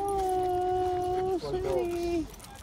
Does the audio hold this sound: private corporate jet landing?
no